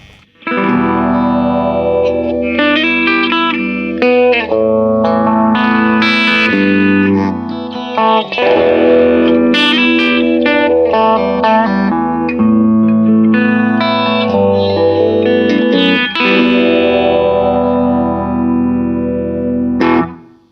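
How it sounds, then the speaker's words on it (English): Sustained electric guitar chords and notes through a Phase 90 phaser pedal set very slow, a slow sweeping swirl, loud and continuous with a bright, effected tone. "the first thing I have in line is the Phase 90, which is set really slow"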